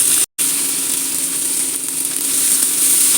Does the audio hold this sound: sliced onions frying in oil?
yes